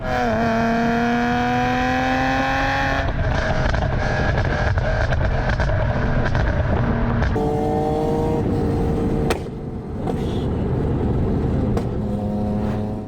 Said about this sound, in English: It makes your car crackle and pop when you tap your throttle a certain way.